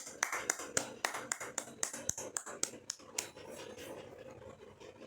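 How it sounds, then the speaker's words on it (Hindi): A group claps after a meditation session, a quick run of uneven, moderately close claps that thin out and grow softer over a few seconds, with faint voices in the background. "और अपने लिए ध्यान के लिए ताली हो जाएंगे सभी"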